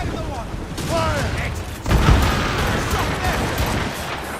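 Naval cannon volleys from a ship battle in Assassin's Creed Rogue, a burst of booming shots near two seconds followed by a sustained rumbling barrage, with a voice speaking over the gunfire.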